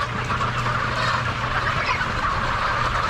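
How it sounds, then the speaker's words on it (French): A flock of young colourful hens in a farmyard enclosure clucking and calling continuously, many overlapping voices close by at a steady, busy level with no talk. "Ça change d'avoir des belles petites poulettes comme ça colorées."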